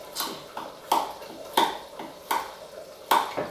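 Diced mango with lime juice and finely chopped red chili being stirred and tossed in a bowl, a series of about five sharp wet clinks and scrapes at an even pace, close and alone.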